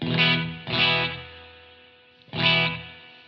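Three distorted electric guitar chords, each struck and left to ring out, pass through a chorus-like thickening effect on a pedal board, giving a wide, shimmering tone that is loud and close with no voices.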